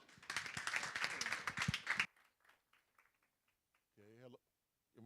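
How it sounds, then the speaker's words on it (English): Audience claps for a conference speaker, a dense burst of applause lasting about two seconds before it cuts off into near silence, followed by faint scattered sounds and a brief voice. "Everybody, a round of applause for Dr."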